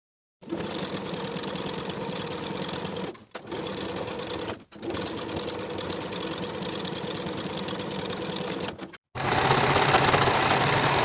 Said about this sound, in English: Sew that sleeve seam with a 1/2 inch seam allowance